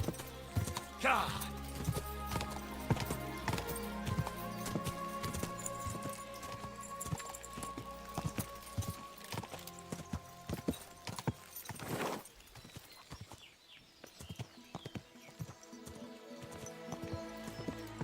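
Horse hooves clip-clopping in a steady walking rhythm in the video game Kingdom Come: Deliverance 2, over layered music and effects, with a brief whinny-like sound and some talking mixed in.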